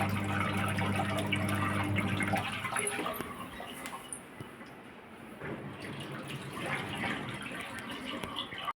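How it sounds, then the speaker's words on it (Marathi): Water rushes and gurgles as a Haier washing machine drains during a self-clean cycle, starting with a low motor hum that fades into steady flowing water. "आता पाणी जात आहे तुम्ही आवाज पण ऐकू शकताय"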